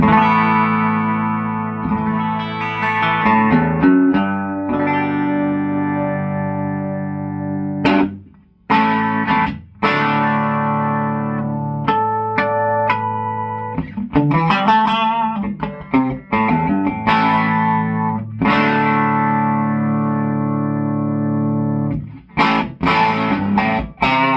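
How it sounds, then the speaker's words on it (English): Electric guitar played through a driven Princeton tube amplifier, chords and riffs with a gritty, saturated natural distortion and sustained notes, loud and continuous with a few brief pauses. "it starts to get that natural distortion"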